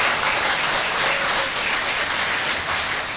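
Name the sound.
audience applause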